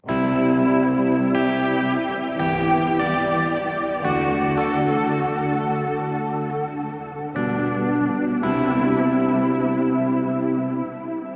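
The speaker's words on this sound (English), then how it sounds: "So this is really a cool modulated type reverb." Sustained guitar chords ring out through a Revelation Reverb 2.0 pedal's modulated reverb, with a lush, wavering tail, each new strum blooming into a shimmering wash with no talking.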